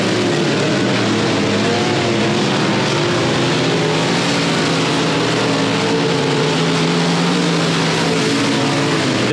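Race cars, including the F5 and the 100 car, circle Timberline Speedway. A loud, unbroken engine drone with overlapping motor whines fills the whole stretch, with no talk.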